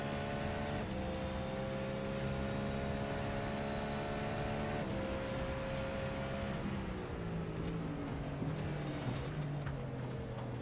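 Onboard race car during practice at Sebring, its engine droning steadily at high revs with shifting harmonic tones as it runs through traffic, loud and continuous with no voices.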